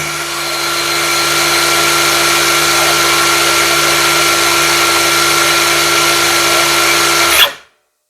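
A Tankmor TMR 802 cordless 5-inch mini circular saw runs free at high speed, a loud, steady whine that spins up, holds evenly for about seven seconds, then cuts off abruptly.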